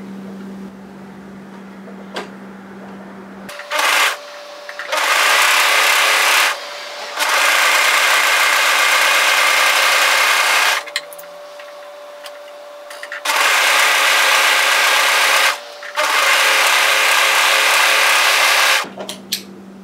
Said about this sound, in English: Now take this to your overlocker and overlock the raw edge.